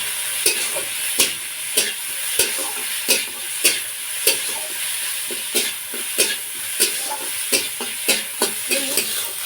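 Onion and tomato fry with salt in a pan, a steady close sizzle broken by regular scraping strokes of a spoon stirring about every second.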